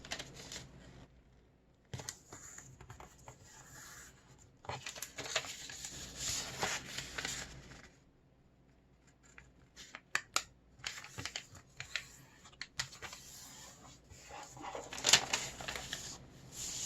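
Colored paper is folded and creased for an origami mini sports car, with crisp rustling bursts and sharp swipes between quiet pauses, close and fairly soft.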